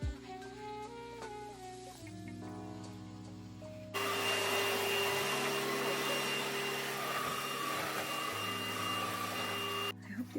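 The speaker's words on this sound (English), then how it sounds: "This is True Cozy Cordless Vacuum Cleaner." True Cozy cordless vacuum cleaner switching on after a few seconds of quiet background tones, then running with a loud, steady broadband whir for about six seconds before cutting off abruptly.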